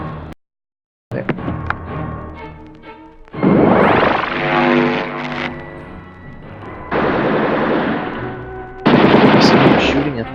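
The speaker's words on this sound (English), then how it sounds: "Someone shooting at this guy." Rapid bursts of automatic gunfire in the video game I Am Not a Monster, loud and close, coming in several dense volleys separated by short pauses.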